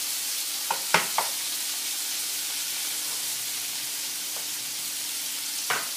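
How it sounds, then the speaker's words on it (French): Scallops dropped into foaming brown butter in a frying pan give a steady hiss of sizzling, with a few sharp clinks and taps of placement early on and another near the end. "une fois que le beurre est noisette, comme ceci, on rajoute les Saint-Jacques"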